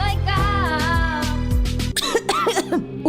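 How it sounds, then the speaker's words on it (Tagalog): Wet, phlegmy coughing from one person, a run of loud, harsh, rattling coughs followed by shorter throat-clearing hacks, close and alone with no talking. "Ubo, plemang nakabara, hirap sa paghinga."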